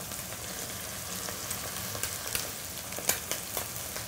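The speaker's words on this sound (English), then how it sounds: "You can hear the sizzle of our scallops going." Scallops sizzle in a pan with chicken stock and diced tomato, a steady crackling fry broken by sharper pops and spits, close and even throughout.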